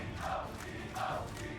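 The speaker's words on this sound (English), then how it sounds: "DoubleLift and Biofrost have looked exceptional recently as the crowd continues to chant." Crowd at a League of Legends esports match, TSM versus NRG in the 2016 NA LCS summer season, chanting in two rhythmic swells, a dense mass of voices sounding steady and somewhat distant in a large arena.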